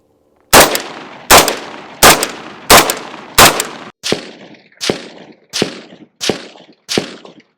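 Ten unsuppressed 5.45 AK rifle shots fired in a steady, evenly spaced series, each a sharp loud crack with a booming tail that decays before the next, the later shots slightly fainter.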